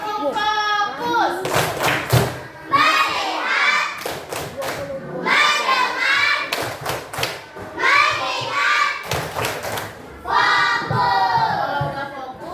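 Children in an Indonesian school classroom clap a rhythmic focus-clap pattern together, loud, close claps in bursts mixed with their chanting voices and a teacher's speech.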